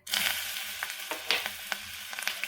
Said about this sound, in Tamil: எண்ணெய் காஞ்சிடுச்சு இப்போ நம்ம அந்த வடகம் சேர்த்துக்கலாம்